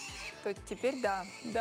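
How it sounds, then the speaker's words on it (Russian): Guinea pigs squeal in a studio, with a series of short high chirping, whinny-like squeaks rising and falling at close range, mixed with brief talk from people. "это звук свинок сейчас был,"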